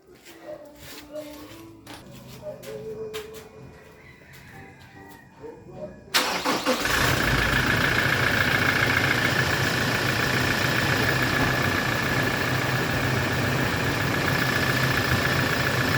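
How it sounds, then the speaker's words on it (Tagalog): A Toyota Innova with a freshly replaced fuel filter cranks and starts on the first try, then settles into a steady, loud idle. A person talks quietly before the start. "Testingin po natin kung mag-i-start siya ng one click."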